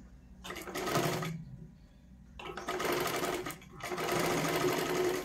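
A sewing machine stitches a size 32 katori blouse in three fast, buzzing runs separated by short pauses, close and loud, the last run longest.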